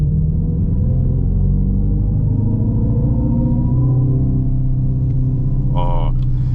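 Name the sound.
Dodge Charger Daytona EV simulated exhaust sound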